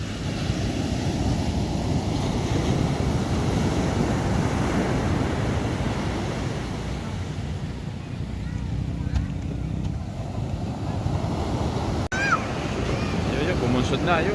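Large sea waves surge and wash steadily around a small fishing boat being pushed off into rough surf, a loud continuous roar with wind, and voices talking over it.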